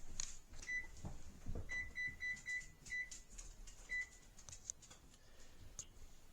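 A kitchen oven's control panel being set to preheat to 375, giving a short run of quiet electronic beeps at an uneven pace, with soft handling noises in between and no speech.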